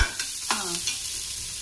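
Turmeric and spices sizzling in a hot pan as they are stirred, a brief close scrape of the spoon over a steady frying hiss, no voices.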